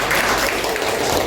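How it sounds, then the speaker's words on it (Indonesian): A classroom group claps for a presenter after a group presentation, giving a short burst of dense, even applause with voices mixed in. "Oke, tepuk tangan untuk Mas Nova."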